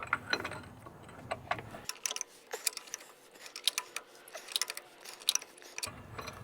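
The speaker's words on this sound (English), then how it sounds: "let's get that loosened up and then get that bolt turned" A wrench loosens and turns a bolt while brake pads are backed off, giving a close run of sharp metallic ratchet clicks and ticks in uneven bursts, some louder than others, with no talking.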